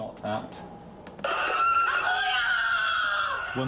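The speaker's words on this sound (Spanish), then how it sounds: "Un niño grita, mi hermano, mi hermano." A child screaming in recorded footage from the Syrian uprising, a sustained, strained wailing cry that rises after a short burst of voices and holds for a couple of seconds, fairly loud and close.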